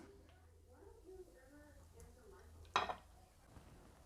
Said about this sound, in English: we need to spoon the lentil and potato mix onto plates